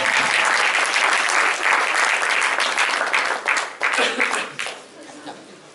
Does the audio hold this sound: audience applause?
yes